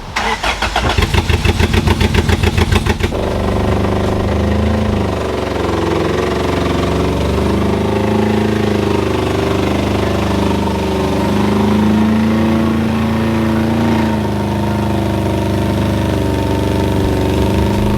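Honda Civic with a B-series engine swap cranks with a rapid starter chatter for about three seconds, then catches and settles into a steady, close idle with slight pitch wavering as it rolls into a garage.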